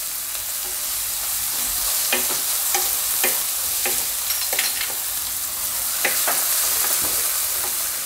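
Garlic frying in oil for a Gujarati mixed-vegetable shaak makes a steady, close sizzle. A spatula scrapes and taps the pan in irregular strokes throughout.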